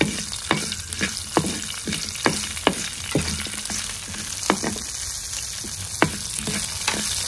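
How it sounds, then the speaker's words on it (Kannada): Onion, coconut and chili fry lightly in oil for an avarekalu chutney, giving a continuous close sizzle punctuated by sharp, regular spatula clacks and scrapes against the pan roughly every half second. "ಈಗ ನೋಡಿ ಲೈಟಾಗಿ ಈ ಥರ ಫ್ರೈ ಮಾಡಬೇಕು."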